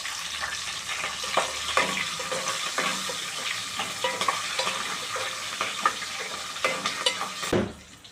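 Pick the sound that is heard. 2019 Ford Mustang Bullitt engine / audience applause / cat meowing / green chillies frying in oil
green chillies frying in oil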